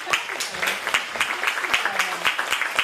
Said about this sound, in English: Dr. McLean deserves another round of applause